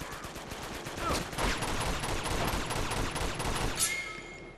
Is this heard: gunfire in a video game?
yes